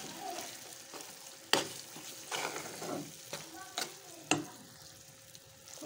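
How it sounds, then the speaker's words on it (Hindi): Saag being stirred and mixed in a pan, with a steady soft sizzle and scraping strokes, punctuated by a few sharper clanks of the spoon against the pan. "साग मैंने डाल दिया है, अब मैं इसको अच्छे से मिक्स कर लूँगी।"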